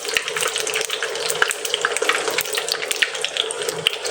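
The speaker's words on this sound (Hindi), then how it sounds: "अच्छा फ्राई हो रहा है" Food frying on a new electric stove gives a steady crackling sizzle with scattered sharp pops, close and fairly loud, running without a break and with no voices.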